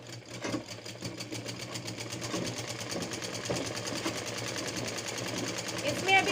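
Sewing machine running steadily while stitching the waist seam of a designer blouse, a fast, even mechanical whir with rapid needle ticking throughout, close and continuous.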